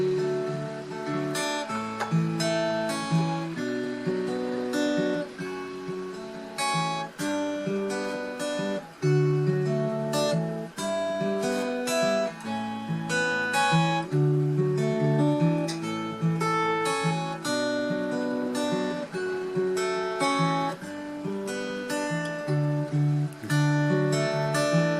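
Acoustic guitar plays the verse of a song, fingerpicked with a swinging alternating bass in C. The picking is steady and continuous, close-miked, and no voice is heard.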